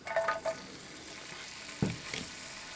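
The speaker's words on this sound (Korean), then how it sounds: "기름이 후라이팬에서 확 퍼질 때가 있어요. 이때 대파를 넣고" Chopped green onion hitting hot oil in a frying pan, a steady crackling sizzle with a sharper burst as the scallions go in, close and continuous, no talking.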